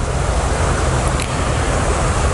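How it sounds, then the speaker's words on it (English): A small mountain stream flows steadily in a continuous broadband rush of water, close and fairly loud, with no voices. "little mountain stream here"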